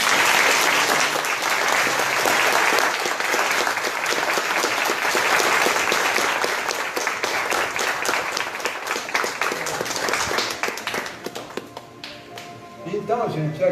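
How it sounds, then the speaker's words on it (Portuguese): A lecture audience gives dense, sustained applause for about ten seconds before it thins out and fades, with a few voices emerging at the end. "eu gostaria que todos aqui batessem palmas para Maria de"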